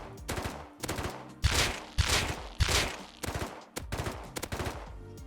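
Gunfire in the survival game Rust, with an MP5 and a Thompson, comes as loud, close bursts of rapid automatic shots, each separated by short pauses.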